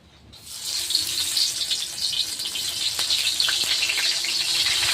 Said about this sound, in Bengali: তেলও গরম হয়ে গেছে এখন আমি ভেজে নেব